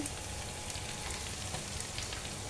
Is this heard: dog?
no